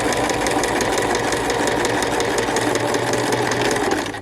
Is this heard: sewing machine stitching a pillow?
yes